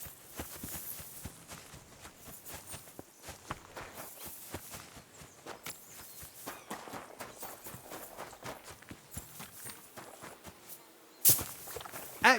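Horse hooves clip-clopping in the Kingdom Come Deliverance 2 video game, a steady series of distinct hoof strikes at walking pace, moderately close, with a couple of sharper knocks near the end.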